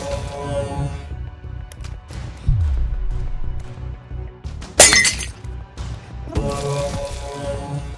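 A glass bottle swung as a weapon in a VR sports game shatters with one sharp, bright crash in the middle, set among thumps, clicks and game background sounds.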